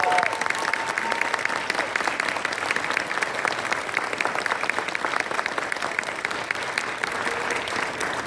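An audience in a school setting applauds fifth graders after their musical, steady dense clapping lasting several seconds at an even level with a faint voice underneath.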